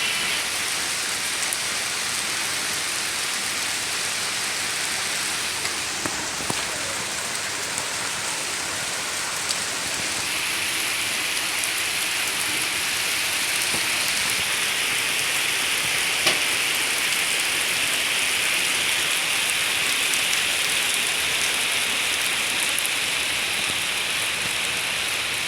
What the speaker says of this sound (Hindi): अभी यानी ज़बरदस्त बारिश हो गई है, तो फ़िलहाल अभी भी हो रही है